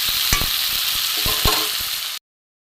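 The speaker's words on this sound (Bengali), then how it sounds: "আলু মটরশুঁটি ভাজা হয়ে গেছে" Potatoes and peas fry in a pan with a close, steady sizzle punctuated by a few sharp spatula knocks and scrapes before it stops suddenly.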